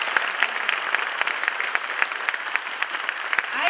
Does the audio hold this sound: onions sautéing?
no